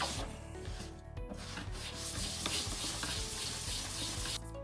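Steady wet hand-sanding with 400-grit sandpaper, a soft continuous rubbing and swishing scrape, close and quiet with no talk.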